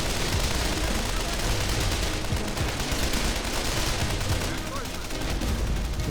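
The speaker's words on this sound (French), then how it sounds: "Ok, là il y a toujours la mitrailleuse." Dense, steady machine-gun fire and battle noise from the World War II strategy game Men of War: Condemned Heroes, loud and continuous without a break, with a voice talking over it.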